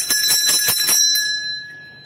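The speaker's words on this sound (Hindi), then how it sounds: "भोले बाबा की घंटी लगी हुई है" A temple bell of Lord Shiva is struck about six times in quick succession, bright and metallic, each strike ringing out before the last tone rings on and slowly fades away.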